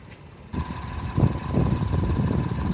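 A 2018 Acura MDX's 3.5 liter V6 engine idles steadily under an open hood, a close, even mechanical hum that swells after a brief quiet start and holds at a constant low rumble.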